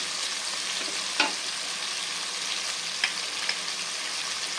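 Tomatoes fry in a pan over tempered spices with a continuous, even sizzle, broken only by a few faint clicks of stirring.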